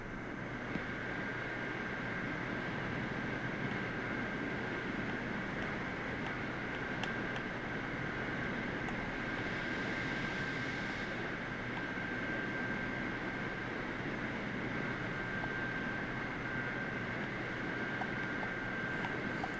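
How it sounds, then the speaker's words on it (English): Steady broadband drone of Boeing 747 airliner engines in Microsoft Flight Simulator, a constant loud roar with a thin tonal whine above it, unchanging across the whole stretch with no talk. "Boeing 747."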